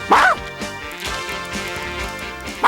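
A cartoon dog barks during a game of charades, a sharp yappy bark up front followed by softer whimpering yips and a final bark at the end.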